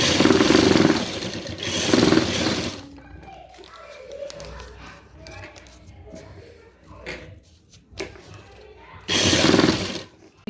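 A sewing machine runs in loud bursts while hemming the edge of a folded fabric strip for a frilled trouser cuff, with quieter handling and fabric rustle between the runs.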